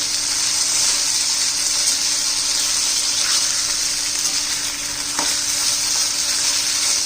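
A black bean curry sautés in hot oil, giving a loud, even sizzle that runs the whole time. Faint stirring scrapes are heard now and then, and no one speaks.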